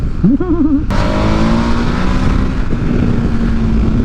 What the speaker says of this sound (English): such a good engine for overtaking, because you've got delicious punch, but then nice engine braking out the other side as well